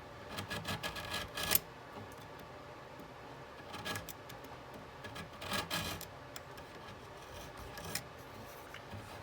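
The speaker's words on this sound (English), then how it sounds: "I'm going to take a razor blade and get it pretty close." A razor blade trims edge banding along plywood, producing intermittent scraping strokes in a few short bursts, quiet and close, with no talking.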